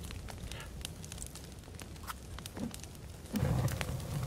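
Campfire crackling in the survival video game The Forest, a steady low rumble with scattered small pops and snaps, close and moderately loud, and a slightly heavier burst near the end.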